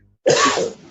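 One abrupt, forceful sneeze up close, bursting out after a moment of quiet and trailing off quickly.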